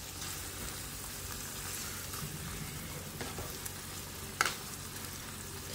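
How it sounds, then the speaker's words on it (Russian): Steady, dense sizzling of food frying in a hot pan, continuous broadband crackle with an occasional louder sharp pop near the end. "Все, чуть-чуть поджариваем."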